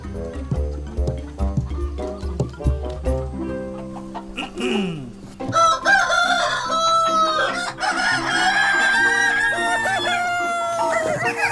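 A rooster crows loudly and repeatedly after a stretch of musical tones, its calls standing out clearly among them.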